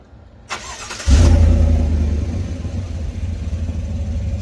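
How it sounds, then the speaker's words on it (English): Chevy Silverado Trail Boss truck engine fitted with a Flowmaster 40 series muffler starting up: a brief starter click and crank, then a deep, loud exhaust rumble settling into a steady close idle. "So I installed a Flowmaster 40 series muffler and gives it a nice deep growl."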